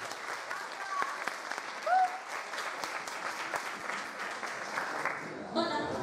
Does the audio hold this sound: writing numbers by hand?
no